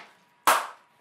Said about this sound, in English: get it on the first clap this time